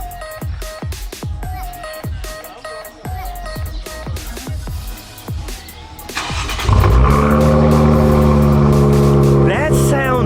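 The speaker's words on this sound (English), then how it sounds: "I just want to get the cold start." An Infiniti Q60 engine cold-starting: the first six seconds carry a steady run of sharp rhythmic clattering pulses, then a loud, deep, smooth idle rises and holds to the end, with a voice talking faintly under it.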